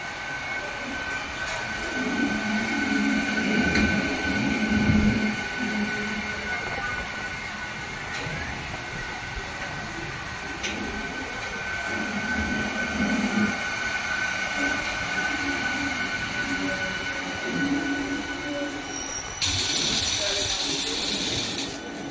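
A train rolls past continuously at close range, a steady rumbling clatter of wheels on rails with a sustained tonal hum and a rising hiss near the end, with a voice speaking over it.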